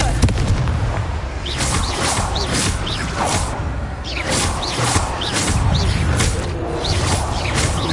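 Fiery magical blasts and whooshing bursts from the Confringo spell in Hogwarts Legacy, loud and dense, with repeated explosive booms and crackles layered over combat noise throughout.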